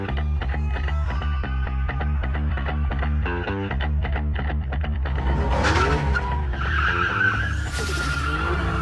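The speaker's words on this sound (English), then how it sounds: "she yanked the handbrake, and pulled off a high-level drift" A car in a handbrake drift, its engine note pulsing in a rhythmic, music-like pattern before the tires break into a loud, sustained squeal and skid that rises sharply toward the end.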